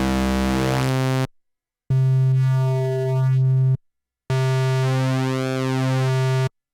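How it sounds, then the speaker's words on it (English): Korg Prologue analog synthesizer oscillator with wave shaping plays three held notes separated by silences, its timbre sweeping and morphing within each note, loud and alone. "Each oscillator also has wave shaping capabilities, which is really cool here, which sounds like this."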